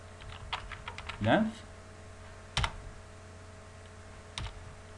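Code being typed on a computer keyboard: a few quick key clicks near the start, then isolated sharper taps, quiet and close while someone talks.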